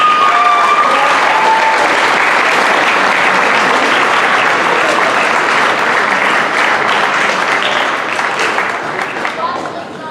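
Crowd at a high school student recognition assembly claps loudly and steadily for about ten seconds, the applause filling the hall before easing off at the end.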